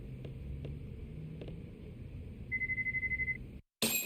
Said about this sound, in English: That's not our ringtone, is it?